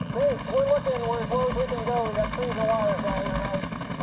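Helicopter flying low over treetops, a close rhythmic rotor thump with a steady engine drone, heard beneath someone speaking throughout.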